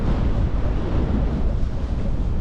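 Strong wind buffets the microphone on a paragliding takeoff hill in China, a loud, constant low rumble with no breaks and no other sounds above it.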